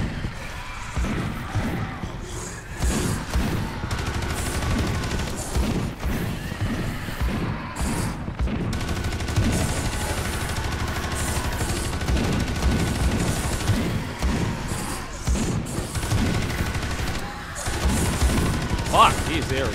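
Sustained, dense gunfire from Space Hulk: Deathwing, with rapid overlapping bursts and crashes that stay loud and near throughout, while voices talk over the din.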